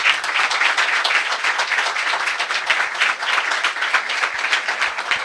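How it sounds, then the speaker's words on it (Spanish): Loud, dense applause from a university lecture audience welcoming a guest speaker at a conference, continuous and even throughout. "Le pedimos un muy fuerte aplauso para recibir a nuestro invitado."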